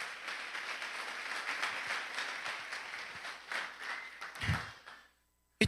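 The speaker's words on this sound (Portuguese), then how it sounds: "Você pode aplaudir o Senhor." A church congregation claps during a sermon, a dense, fairly faint wash of applause with scattered taps and thumps that fades out near the end.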